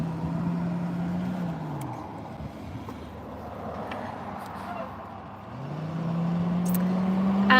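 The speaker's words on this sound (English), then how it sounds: "there's a bus passing, so it'll be noisy for just a second" A bus passes by on the road outside with a low engine rumble that swells, eases off in the middle, then builds again toward the end, heard at moderate volume from a distance.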